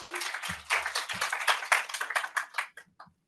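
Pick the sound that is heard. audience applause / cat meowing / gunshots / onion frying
audience applause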